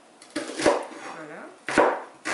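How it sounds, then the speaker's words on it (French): A knife chops shallots into tiny pieces on a board, close sharp knocks arriving in a few quick bursts with pauses between. "nous allons découper les échalotes en tout petits morceaux"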